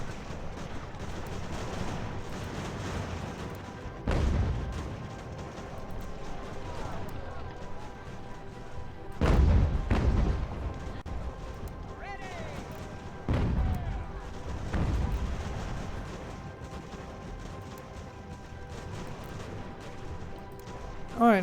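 Troops firing on forts in Ultimate General: American Revolution produce a few heavy booming volleys spaced several seconds apart over a low battlefield rumble, with someone talking throughout.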